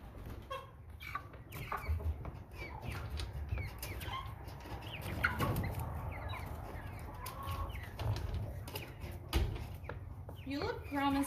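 Young American Bresse chickens, about nine weeks old, cluck intermittently while being handled and sorted, heard close alongside a voice with occasional thumps of a pen or door.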